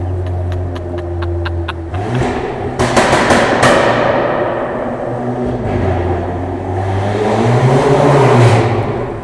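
A modified Golf with its particulate filter removed, exhaust roaring loud and close, with sharp crackling pops early on and a sustained deep rumble that swells toward the end.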